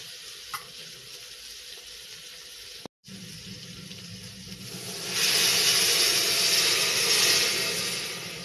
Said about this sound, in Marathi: आता त्याच्यात पाणी टाकून घ्यायचे आणि नंतर मग उकळी आल्याच्या नंतर तांदूळ टाकणार आहे.